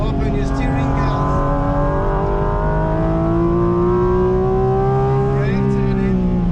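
A Porsche GT4 RS engine howls loud and close on the Nordschleife, its pitch climbing steadily under load, then briefly dipping and jumping with a gear change before pulling again.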